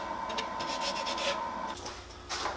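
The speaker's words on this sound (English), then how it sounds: "Alright, so I've done a little sanding." Hand sanding of a wooden bowl, a close, soft rasping rub in short uneven strokes that pause and resume, with no voices.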